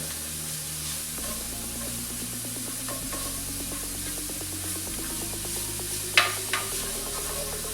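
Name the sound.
food frying on high heat in olive oil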